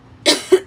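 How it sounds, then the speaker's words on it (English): Two quick, harsh coughs close to the microphone, the first louder and rougher, the second shorter and more throaty. "That was a lot of coughing."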